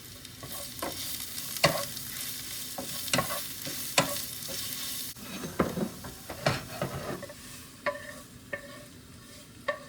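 Cabbage being mixed in a hot pan with granulated garlic makes repeated spatula scrapes and knocks over a continuous sizzle, close and fairly loud, with no speech.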